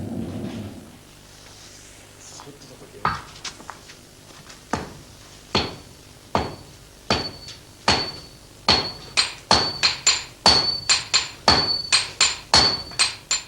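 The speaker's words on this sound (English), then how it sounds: "It is purified by hammer blows and by pouring a liquid made from ash over it." Hammer blows on a lump of crude iron being forged for a Japanese sword, sharp metallic ringing strikes starting sparse and slow, then quickening into a steady, loud, close rhythm with no talk.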